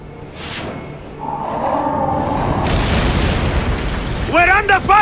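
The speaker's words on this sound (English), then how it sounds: "We're under fire!" Cannon fire and explosions boom during a naval battle in Assassin's Creed Origins, heavy rumbling blasts that build and swell, with shouted voices heard briefly.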